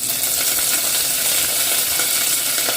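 Curry leaves dropped into hot oil crackle and sizzle loudly and steadily from start to finish, a dense close-up frying hiss with no voices, made while cooking a Jaffna-style chickpea and eggplant curry.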